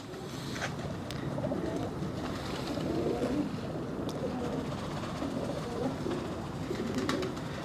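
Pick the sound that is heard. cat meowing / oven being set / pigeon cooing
pigeon cooing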